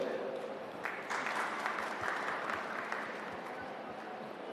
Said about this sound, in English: I request all of you to please give a big round of applause to them.